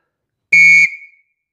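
One loud, shrill scout whistle blast, cut off sharply by the tongue and followed by a brief fading ring, alone in silence.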